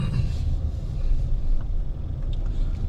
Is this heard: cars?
yes